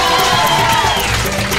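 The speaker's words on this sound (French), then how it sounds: "qu'on applaudit bien fort" Audience applause and cheering at a live evening event with a DJ mixing, a dense steady wash of clapping and crowd noise, loud and continuous throughout.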